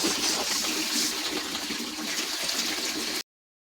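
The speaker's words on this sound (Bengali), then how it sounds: "অল্প একটু জল দেবো।" A small amount of water is poured into crab curry masala spices of coriander and cumin powder, a steady close splashing gush lasting about three seconds before cutting off.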